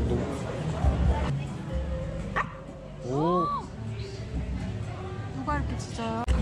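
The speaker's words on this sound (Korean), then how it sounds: "누가 이렇게 짖어요?" A dog barks and gives several high yips and whimpering cries, loud and close indoors, mixed with kitchen clatter and people talking.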